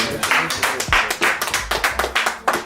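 A few people clapping during a local crew podcast, uneven sharp claps in a quick irregular rhythm, close and fairly loud, with small thumps between.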